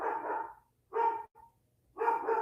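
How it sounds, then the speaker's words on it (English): A dog barks in three loud, close bursts, the first and last as quick doubled barks, with short silences between them. "My dog's going crazy."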